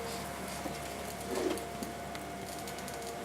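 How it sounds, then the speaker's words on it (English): A ColorFlare CF750 foiling machine feeding laminate and foil through its rollers gives a steady mechanical whir with a faint rising rumble midway, close and even. "You'll see that the laminate feeds the foil through your device."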